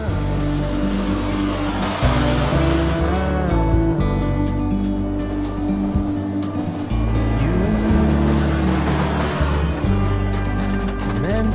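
A 4WD, one of a Nissan Patrol and Hilux group, revs steadily and loudly as it reverses up a dirt bush track in Kroombit Tops National Park, its engine droning continuously with surging pitch throughout.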